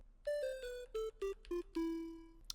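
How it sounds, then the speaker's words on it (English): A Serum game lead preset played in FL Studio sounds as a bright synth lead of about seven separate notes stepping downward, the last one held long, playing alone with no talk. "Then we're using the game lead."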